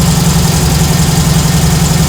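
The freshly rebuilt engine of a 1965 VW Beetle idles loud and close with a steady, throbbing low rumble and an even beat throughout, no voices over it.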